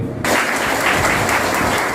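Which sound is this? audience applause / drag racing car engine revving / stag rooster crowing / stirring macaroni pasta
audience applause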